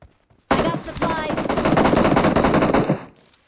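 Rapid, sustained automatic gunfire from a video game, loud and continuous for about three seconds after a quiet start, with a brief pause near the one-second mark.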